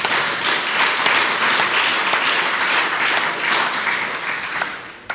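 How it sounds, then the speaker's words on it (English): Steady applause from the audience at a 2017 public hustings in Lochaber, greeting the sitting SNP MP candidate; sustained clapping at even loudness for about five seconds with no talk over it. "Can we give him a round of applause?"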